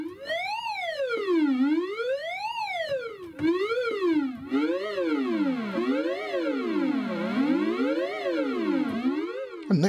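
A ZX Spectrum siren sound effect, a buzzy synthesized tone sweeping up and down in repeated rising and falling cycles, loud and continuous, with the sweeps speeding up partway through.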